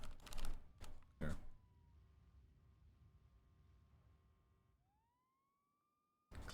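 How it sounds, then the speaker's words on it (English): Sharp keystrokes on a clicky keyboard rattle out in a quick burst at the start. A faint wavering siren-like tone then drifts underneath before one more loud clack at the end. "Clicky keyboard."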